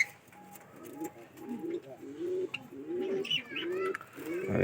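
White lakka fantail pigeons coo in a close, repeated run of soft rolling calls, overlapping one another in a loft with faint background noise.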